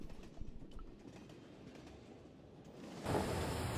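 A train in the video game Broken Sword Reforged gives off a steady low rumble with faint wheel clatter, then grows louder and hissier near the end. No one speaks over it.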